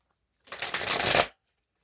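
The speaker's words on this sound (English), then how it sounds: "I'm going to do one more shuffle." A single quick riffle shuffle of a deck of tarot cards, close and crisp, lasting under a second in an otherwise quiet room.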